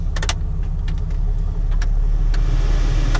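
Jeep TJ Wrangler engine sitting at a steady idle, a constant low rumble heard from the cabin with the air conditioning just switched on, punctuated by a few faint clicks and taps.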